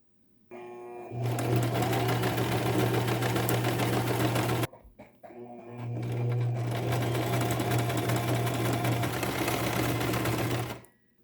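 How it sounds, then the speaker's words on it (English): An electric sewing machine runs a zigzag stitch on cotton fabric pieces for a medical face mask, loud steady whirring and rapid needle chatter in two long bursts separated by a brief pause. "Both pieces are ready for my zigzag stitch on my machine."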